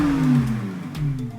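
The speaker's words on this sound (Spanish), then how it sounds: "Este coche, cuando lo pones en marcha, el compresor empieza a aullar." Volkswagen Polo G40 with its 1300 engine and supercharger, a steady whine gliding slowly downward over a low engine drone as the revs ease off, close and fairly loud, with no talking.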